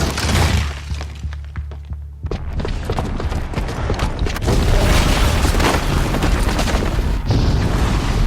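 A loud, close bomb explosion in Horizon Zero Dawn: a deep booming blast with shattering debris, followed by a sustained roar of crumbling rubble and rumble lasting several seconds.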